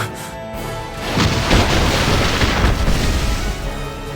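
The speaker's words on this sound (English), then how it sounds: "A bombardment from Styria." Heavy bombardment explosions in the Final Fantasy War of Visions video game, a thunderous, rumbling barrage that swells after a second and keeps booming and crackling continuously until the end.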